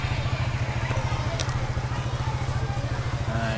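Motorcycles idle outside a Malaysian primary school at pickup time, a steady low rhythmic engine putter running continuously and fairly close throughout, with faint background activity.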